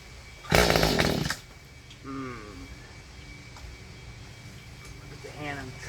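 Mantis tiller's small two-stroke engine fires in a short, loud, rasping burst near the start, then drops to a low stutter and idle as someone talks over it.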